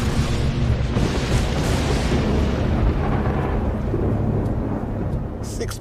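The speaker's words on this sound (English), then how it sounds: "Anyone who was in and around Yosemite that day felt that the thunder was the loudest they've ever heard." Loud, sustained thunder rumbles over Yosemite's granite walls during a storm, a dense low roar that keeps rolling without a break, close and heavy, easing slightly near the end with no voices.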